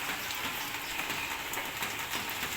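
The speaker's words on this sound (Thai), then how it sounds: "นี่ ฝนตกครับ" Steady rain falling outdoors, a dense, even hiss of drops on surfaces continuing throughout with no talk.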